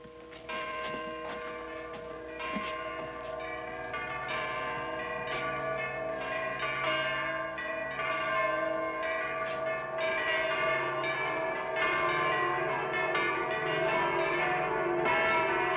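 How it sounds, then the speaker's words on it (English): Church bells ring continuously in overlapping peals, steady and full, sounding moderately distant with no voices. "Henry, tell the sexton to sound all the church bells and call the Presbyterians."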